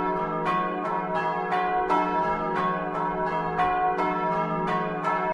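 Church bells peal steadily and close in Basovizza, with repeated strikes at a regular rhythm over a ringing, layered tone.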